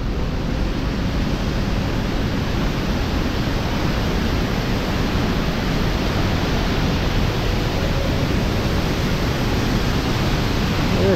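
Waterfall at a Manavgat campsite roaring heavily in the rainy season as it gushes over concrete, a dense, steady wash of rushing water with no breaks and no voices.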